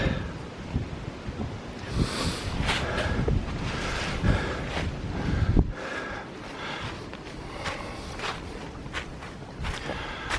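Gusty wind rumbling and buffeting steadily outdoors in a gully, with crunching footsteps underneath and no one speaking.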